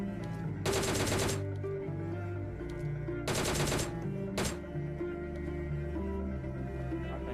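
Automatic gunfire in the mobile game PUBG Mobile Lite: two long rattling bursts and one short burst, loud over a steady low game backdrop.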